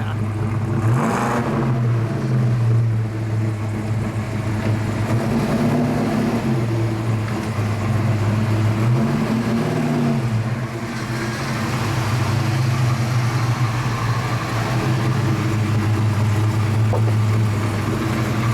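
Engine of a 1969 Dodge Charger Daytona with a 426 Hemi heard from inside while driving, a steady loud rumble with rising and falling pitch through gear changes, no talking.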